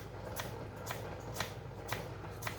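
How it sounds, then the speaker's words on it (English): Knife chopping vegetables finely on a board for homemade salsa, heard as five evenly spaced crisp cuts over a steady low background hum, close and moderately loud with no voices. "cut it up finely, making a lovely little salsa here"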